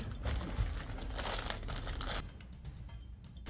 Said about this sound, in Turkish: bir poşet. Hadi açalım.